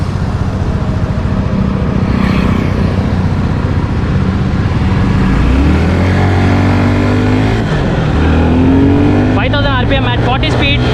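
A Suzuki Gixxer 250 BS6 motorcycle engine revs and climbs through gears on a test ride, rising pitch sweeps repeating as it accelerates, loud and close, with a voice talking over it.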